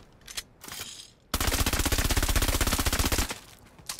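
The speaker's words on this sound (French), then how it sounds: "Regardez, ça tire pas des balles. Ça tire du maïs." A gun in the Fortnite video game fires corn kernels in a rapid automatic burst of about two seconds, preceded and followed by a few short single shots.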